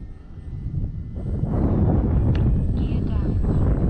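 FMS PC-21 Pilatus RC airplane engine run at full throttle outdoors, a steady loud electric whine with wind buffeting the microphone, rising slightly after the first second and holding, with someone talking over it.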